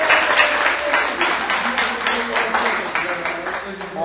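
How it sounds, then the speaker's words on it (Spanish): Applause for a guest named Alex on a Spanish-language podcast, steady dense clapping held at an even level for about four seconds, with voices murmuring faintly underneath. "Un aplauso a Alex."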